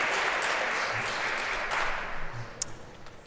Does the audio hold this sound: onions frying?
no